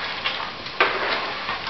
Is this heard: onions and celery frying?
yes